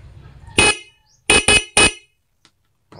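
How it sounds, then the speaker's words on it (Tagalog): Stock horn on a motorcycle fitted with an NHAY 3+ Pro music horn and double-contact setup, sounding one short honk followed by three quick blasts, loud and close with no talk. "So dapat kapag pinindot ko to, tutunog yung ating stock horn"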